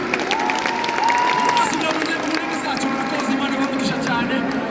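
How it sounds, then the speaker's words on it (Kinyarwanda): A crowd claps and cheers for dancers at a Rwandan praise gathering, with steady applause running under a voice and music throughout. "Ababyina tubakomera amashyi menshi cyane."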